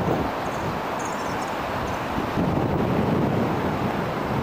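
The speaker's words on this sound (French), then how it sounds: "c'est sûr qu'il y a un petit peu de vent" Wind blows steadily across the microphone at a seaside hotel on Réunion, among coconut palms and pines near the restaurant. It makes a continuous rumbling, buffeting roar with little variation and no talk.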